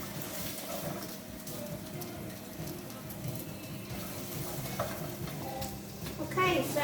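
Shallots and carrots browning in a hot pan for a beef and Guinness pie, a soft continuous sizzle with faint stirring, low and steady throughout.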